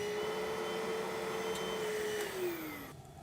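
A Bissell carpet cleaner sucking liquid from carpet: a steady, loud motor whine with a gurgling suction roar that drops off abruptly near the end as the machine cuts out.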